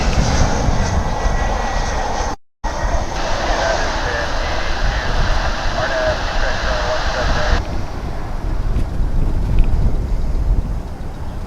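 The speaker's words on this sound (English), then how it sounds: "It's American Eagle Flight 3067, a CRJ 700, blasting its way to runway 18 right." An American Eagle CRJ 700 regional jet powers down the runway at DFW Airport, a steady broadband roar of jet engines close and loud, with a brief dropout early on, and the noise holding strong through the takeoff run.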